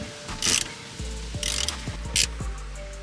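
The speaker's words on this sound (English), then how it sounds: "there we go, crack that bolt loose." A ratchet wrench loosens a bolt on a Mazda RX-8 oil cooler line, giving three bursts of rapid clicking separated by short pauses, close and clear over a low hum.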